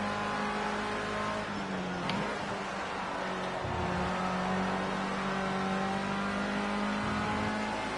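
A Formula C race car engine in Project Cars 2 holds a high, steady whine, with short dips and rises as the gears change, constant and fairly quiet, with no talk.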